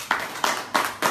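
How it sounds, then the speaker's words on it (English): A church congregation claps for a member after a prayer: four distinct, evenly spaced bursts of clapping, moderately loud and close, with nothing else heard. "Give him a round of applause."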